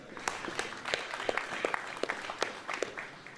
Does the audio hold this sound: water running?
no